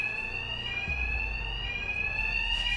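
Alarms ringing in Batman: Arkham Knight, a loud continuous electronic tone held steadily over a low rumbling background, with no voices.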